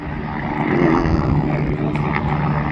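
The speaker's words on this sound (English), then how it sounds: "Wow, the helicopter landing." A helicopter lands at the Goodwood Revival, its engine and rotors making a loud, steady drone that stays close and constant throughout.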